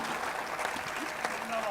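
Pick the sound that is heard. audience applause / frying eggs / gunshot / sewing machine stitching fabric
audience applause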